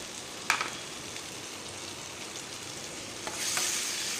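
Ginger garlic paste sautés in a pan for chicken kuzhambu, giving a soft, steady sizzle with a couple of sharp clicks of a utensil against the pan, close and alone.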